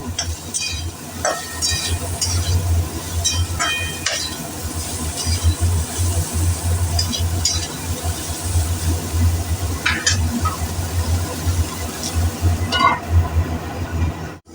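Sliced bitter gourd fries in a kadai, a loud, steady sizzle broken by scraping and the clink of a spoon stirring against the pan.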